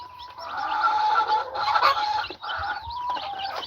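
Chickens in a farm pen cluck and call close by, a busy overlapping stream of clucks and squawks with brief pauses, fairly loud and without talk.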